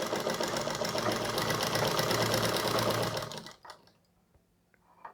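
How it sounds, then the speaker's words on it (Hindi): An electric sewing machine runs a fast, even stitch through collar suit fabric, loud and close for about three seconds, then stops and leaves faint small handling noises. "पहले मैं इसके साथ इसे सिल दे रही हूँ, मिडिल में एक सिलाई डाल के।"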